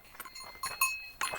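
A cow trailing hikers along a Swiss mountain trail, its bell clanking faintly in three or four short bursts, with no voices.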